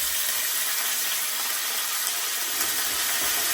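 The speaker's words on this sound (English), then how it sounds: "adding the chicken in." Steady hissing sizzle of chicken frying in a hot pan on medium heat, a continuous bright crackle with no voices.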